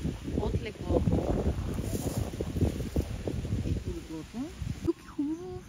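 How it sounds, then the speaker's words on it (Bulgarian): Wind gusting through an autumn vegetable garden with cleared zucchini beds, a steady broadband rush with microphone buffeting, heard under a person talking throughout. "Малко е ветровито."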